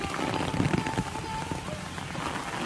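Steady rain pours down on a rural road, a continuous close wash of falling drops with faint, indistinct voices underneath.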